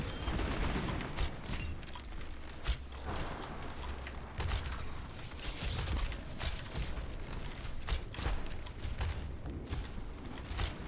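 Rapid gunfire from the video game Overwatch, steady bursts of shots and mechanical clatter running throughout at moderate volume, with a player's voice occasionally over the action.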